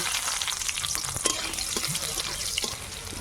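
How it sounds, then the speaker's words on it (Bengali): Whole cumin, whole garam masala, dry red chilli and bay leaf fry together in hot oil for a masoor dal tempering, producing a dense, close hissing sizzle with small crackles throughout. "ফোড়নে দেব গোটা জিরে গোটা গরম মশলা শুকনো লঙ্কা তেজপাতা একসঙ্গে দিয়ে দেবো"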